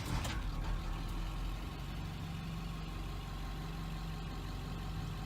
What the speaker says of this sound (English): we can start the engine